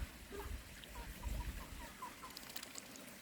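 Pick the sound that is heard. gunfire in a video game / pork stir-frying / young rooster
young rooster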